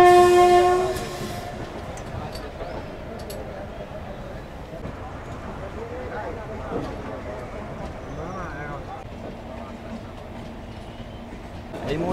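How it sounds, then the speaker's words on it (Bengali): The Tamralipta Express pulls out of Howrah Junction station, its horn blaring loudly at the start before giving way to a steady rumble of moving rail cars and wheels, with faint voices in the background. "এই মুহূর্তে আমার ট্রেন ছেড়ে দিল হাওড়া জংশন রেলওয়ে স্টেশন থেকে"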